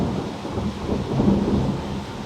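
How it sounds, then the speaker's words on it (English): Loud, close thunder rolls and rumbles continuously in a deep swelling peal before rain, with a faint hiss of wind or light rain beneath and no talking. "Sounds like it's about to rain."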